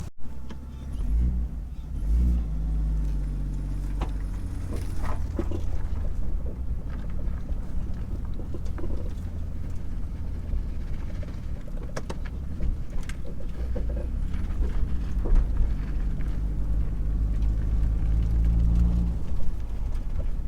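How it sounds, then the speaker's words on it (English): A turbocharged Nissan R31 drift car engine with an unhappy turbo rumbles and revs low and heavy, with rising and falling throttle surges and some wind buffeting, no talking. "you can still hear that turbo is certainly not very happy"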